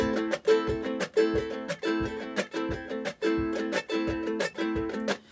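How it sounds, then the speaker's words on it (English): Steady, even guitar strumming at a quick regular pace, about two strokes per second, ringing chords played close with no talking. "Now that's sounding more like the kind of strumming I think everybody wants to do."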